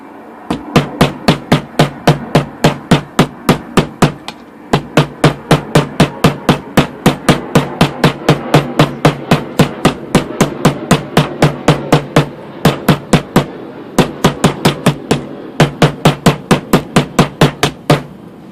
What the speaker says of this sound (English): I'm definitely going to have to beat it down more with the 3-pound mallet